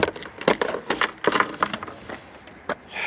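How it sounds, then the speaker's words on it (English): Keys to a 1988 Toyota MR2 Supercharged jangle and clink repeatedly at close range while being handled to open the trunk, a bright irregular metallic rattling. "in order to get into the trunk, you will have to use the key"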